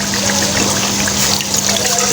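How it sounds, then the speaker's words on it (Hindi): Water being poured into a pot of chicken and arvi shorba as it cooks, a continuous close trickling and splashing pour with a faint steady hum beneath. "पानी डाल रहे हैं और शोरबा इसका थोड़ा सा बना रहे हैं"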